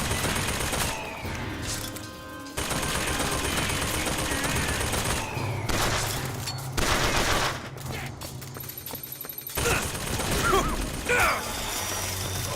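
Repeated gunfire bursts and booms in a loud first-person shooter battle in Bioshock Infinite, with a shotgun among the weapons, shots coming in dense clusters with brief pauses between them.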